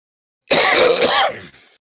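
A single short cough or throat clear from a player at a tabletop role-playing session, loud and close, following brief silence.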